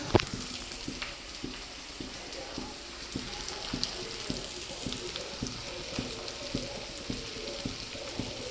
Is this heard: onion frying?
yes